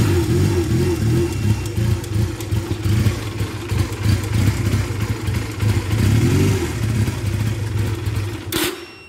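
An engine being started at an engine start-up event, with the choke just switched off, revs hard and unevenly with a rough, throbbing drone that holds loud and close before cutting off abruptly near the end.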